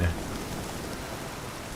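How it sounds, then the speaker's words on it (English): Heavy, wind-driven rain from a storm in The Witcher 3 hisses steadily as a dense, even wash of noise, with a brief low rumble at the start. "This is storming hard. Look at that. 45-degree rain."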